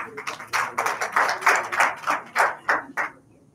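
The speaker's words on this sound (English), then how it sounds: "Please give them a big round of applause." Sparse applause from an audience at a society inauguration ceremony: separate bursts of handclaps in an uneven rhythm, moderately close, fading out at the end.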